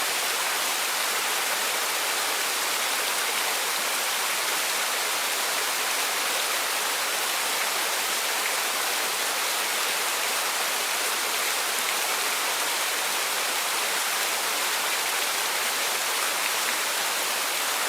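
Steady, dense rush of stream water flowing continuously at a constant loud level throughout, with no voices present.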